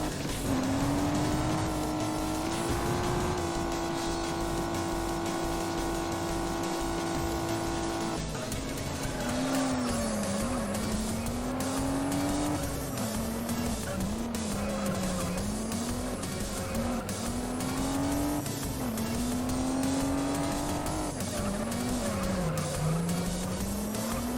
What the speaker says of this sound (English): this one spins out very easily, it's kind of twitchy as well.